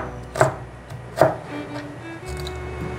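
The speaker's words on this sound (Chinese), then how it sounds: "把青椒切丝，" A knife slices a green bell pepper into strips on a cutting board, giving two crisp, distinct chops close by, followed by a quiet stretch with a low background hum.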